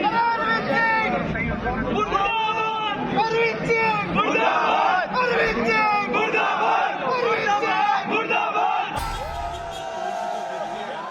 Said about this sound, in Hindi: हजारों लोगों की भीड़, बैरिकेडिंग तोड़ते हुए लोग, हंगामा, बवाल।